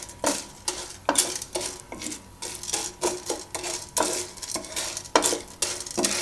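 Popcorn kernels being stirred through oil in a wok for caramel popcorn, a close run of repeated scraping, rattling strokes in an irregular rhythm, heard alone with no talking.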